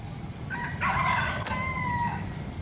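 A rooster crows once, a drawn-out cock-a-doodle-doo at moderate distance over a low background hum, on the grounds of Kasetsart University, Bang Khen, in the morning.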